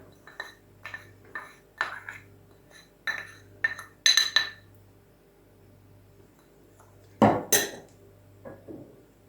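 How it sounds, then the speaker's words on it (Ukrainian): Soft scraping and clinking of a utensil against a bowl as egg whites are stirred with corn starch, irregular strokes with a couple of louder knocks near the end. "Вимішуємо білки з крохмалем, ось так обережно"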